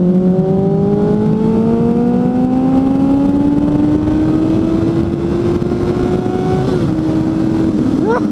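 A Suzuki GSF 600 N motorcycle engine revving, a loud close steady drone whose pitch climbs slowly and evenly before dipping near the end, with a strong rumbling low end throughout.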